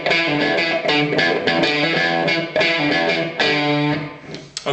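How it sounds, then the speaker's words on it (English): Chugging, distorted electric guitar riff with tight palm-muted notes on the top string, rhythmic and loud, played alone. "I'm using a palm mute on the top string, where I'm resting my palm lightly across the bridge"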